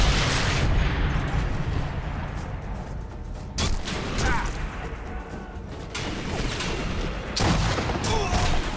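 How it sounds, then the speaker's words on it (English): Enemy gunfire in the shooter Sniper Elite 3 rattles in loud, rapid bursts, with sharp cracks and heavier booming impacts landing close by in an uneven, sustained barrage. "they've returned to shooting at me like they were when they were shooting at me."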